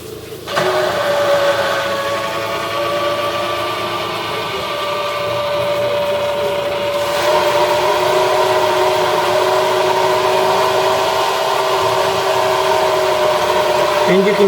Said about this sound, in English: And you can hear the bilge pump running as the water keeps on filling into the sump pump.